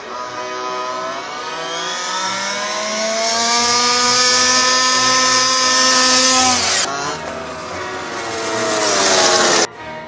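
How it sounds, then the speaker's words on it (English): A remote control plane engine drones loudly with a steady propeller whine that climbs in pitch as it throttles up, then cuts briefly before resuming near the end, heard alone at close range. "and be introduced to remote control planes and quadcopters."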